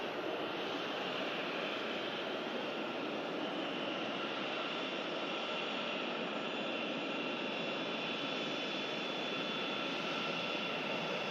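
A Lauda Airbus A320 jet taxis out at Manchester Airport, its engines a steady broad roar held at a fairly even level for the whole stretch, with no talk.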